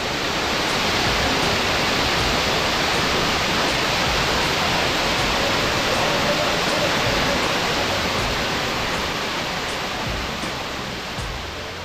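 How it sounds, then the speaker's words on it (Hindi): Waterfall at Lavasa, India, a dense even rush of falling water that fills the scene at a steady level, easing slightly toward the end, with no one speaking. "फिर हमें मिला एक ऐसा वाटरफॉल जहां दूर दूर तक कोई भी नहीं था।"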